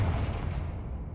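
A Confringo spell explosion in the Hogwarts Legacy video game, a single booming blast decaying into a fading rumble, heard alone.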